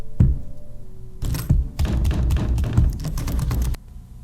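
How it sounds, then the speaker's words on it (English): Heavy thuds and knocks pound on a cellar door in a horror video game. A single bang is followed by a pause, then a rapid, irregular cluster of loud blows before it cuts off. "Is people banging on the cellar at the exit"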